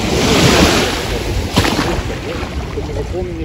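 Sea surf at a beach with a rushing wash of waves and gusty wind on the microphone, loud and close, with faint voices and children's calls in the background.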